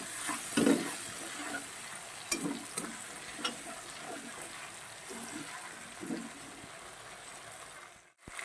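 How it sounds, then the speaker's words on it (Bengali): A fish head is stirred and sautéed in spice masala, giving a continuous sizzling hiss with scattered scraping strokes of a spoon in the pan, ending in a sudden cutoff. "মাছের মাথাটা দিয়েও আমি বেশ 1 মিনিট কষাবো"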